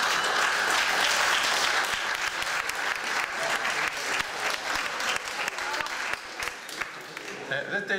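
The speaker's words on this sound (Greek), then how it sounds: "μη χειροκροτάτε." A live audience at a TEDx talk in the old town of Rhodes claps in a dense, sustained round of applause that slowly thins, with a voice speaking over it.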